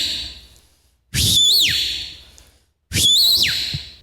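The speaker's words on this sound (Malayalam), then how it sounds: "മരത്തിന്റെ കമ്പ് വെച്ചിട്ട് വിസിൽ ചെയ്യും" Two loud, clear whistle blasts made using a tree stick, each a rising then swooping tone separated by a short pause, close and alone.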